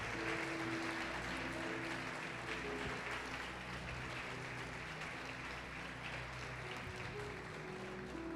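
A church congregation applauds throughout a worship service, a continuous wash of clapping heard at a distance over a low, steady background hum.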